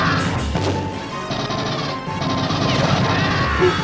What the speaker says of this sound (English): the pulse rifle and smart guns have authentic firing noises